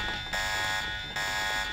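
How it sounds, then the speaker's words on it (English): An alarm sounds in the Deus Ex video game, with loud, repeating electronic buzzer tones that pulse on and off in a steady rhythm and carry no talk over them. "You can set the alarm if you want."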